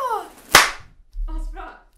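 A single sharp hand clap rings out loud and close, followed by brief voices and cheering.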